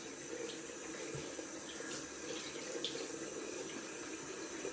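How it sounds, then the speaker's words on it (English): Cold water flows steadily from a tap into a sink during a shave, a soft, even hiss that continues alone throughout. "Cold water."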